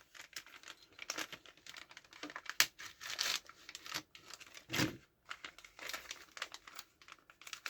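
A paper packet of small parts is torn and crinkled open close by, giving quiet, irregular bursts of crackling and rustling with short pauses between them. No voices are heard.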